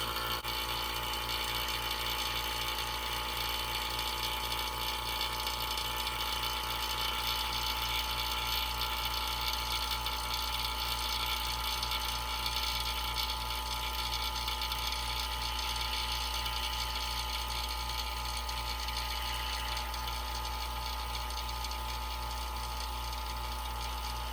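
Vacuum pump drawing air out of a vacuum chamber holding a balloon, a steady mechanical drone with a fast rhythmic chugging pulse, constant and unbroken throughout.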